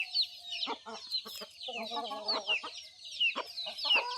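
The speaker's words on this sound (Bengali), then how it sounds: "এগুলো কিন্তু ফাইটার মুরগা যতটা শান্তশিষ্ট মানুষের সঙ্গে" Fighter roosters clucking in a village yard, a run of close, repeated clucks and short calls from several birds with faint bird chatter behind.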